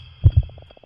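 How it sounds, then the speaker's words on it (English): A thundering heartbeat sound effect in an AI-generated murder mystery video game: two deep, heavy thumps in quick succession, followed by a faint low resonant hum and soft ticking pulses. "muffled by the sound of your own thundering heartbeat"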